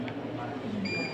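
An nCPAP machine alarm warning that its O2 cell is running out: a steady high electronic tone begins near the end and sounds over a low hum and faint background voices.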